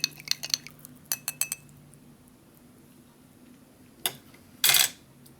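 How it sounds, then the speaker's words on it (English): Spoon clinking against a cup while stirring a Swedish ration chocolate drink, a few quick taps early on and a couple of louder scrapes near the end, close and otherwise quiet. "maybe I'll give this an extra stir"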